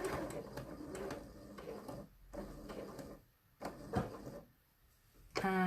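A sewing machine stitches back along a single welt pocket in short, faint bursts of rapid clatter separated by quiet pauses, ending in a louder final run.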